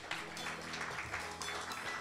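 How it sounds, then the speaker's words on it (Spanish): A church congregation claps together in sustained, dense applause, steady and fairly loud throughout, with a faint hum of organ or keyboard tones underneath. "Dele una ofrenda de palmas al Señor."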